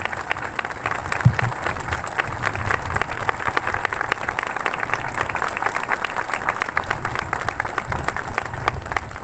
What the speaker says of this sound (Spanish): Pido un aplauso para Fray Mamerto, para todos sus devotos